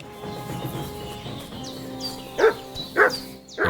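A dog barks in Kingdom Come Deliverance 2 during a fight with a wolf, three sharp close barks in the last second and a half, coming after low rumbling game noise.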